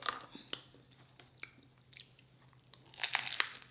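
Someone bites into and chews crunchy food up close, with quiet intermittent crunches and mouth sounds building to a louder cluster of crisp crackles at the end.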